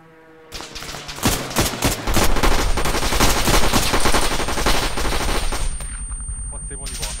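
Sustained automatic gunfire in Arma III Altis Life, loud rapid bursts rattling almost nonstop for several seconds, with voices faintly underneath.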